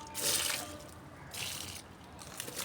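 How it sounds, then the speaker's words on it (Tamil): Calcium-rich water pours and trickles around a lemon plant in two short splashing bursts, close by and fairly quiet, with a soft watery hiss between them. "இந்த தண்ணியை வந்து அந்த செடியை சுற்றி ஊற்றி விடுங்க"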